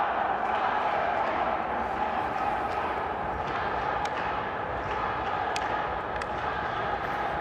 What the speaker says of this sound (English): Stop the vote. Not cheering, but chanting.